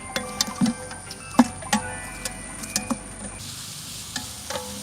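Crushed garlic and green chillies sizzle gently in a pan for Kochi Mattancherry-style crab biryani, with soft frying hiss and intermittent clicks of stirring, close and fairly quiet.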